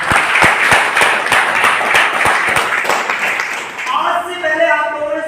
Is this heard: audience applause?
yes